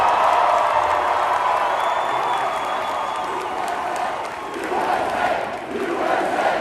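Loud crowd applause and cheering fill a packed room at a Turning Point USA summit, holding steady with whoops and shouts before a brief dip and a surge again.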